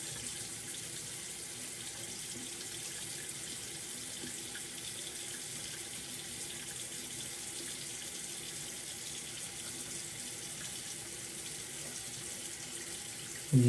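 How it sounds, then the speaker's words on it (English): A tap runs steadily, water splashing into a basin at a constant, fairly loud level with no voices. "put some water right here, just to get it damp"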